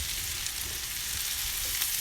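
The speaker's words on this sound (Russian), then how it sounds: "Перемешиваем все вот так вот" Mushrooms frying in a pan and being stirred, a steady soft broadband sizzle with faint scraping, fairly quiet and close, no voices.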